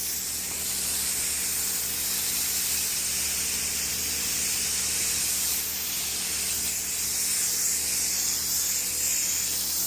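A steady, continuous spray hisses without pause, bright and close, holding an even level throughout with no voices.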